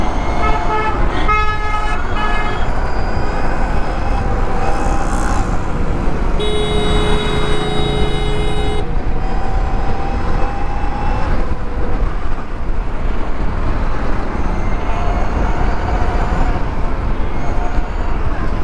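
An Ather 450X Pro electric scooter ridden at top speed in traffic, with steady loud wind and road rush throughout and passing vehicle horns tooting nearby.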